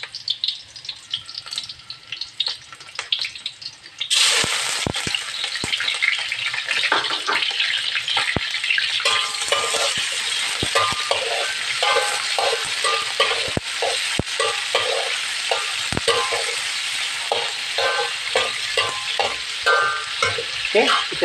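Chicken goes into a pan of frying aromatics and stir-fries with a sudden jump to a loud, steady sizzle, with repeated spatula scrapes and clacks against the pan throughout.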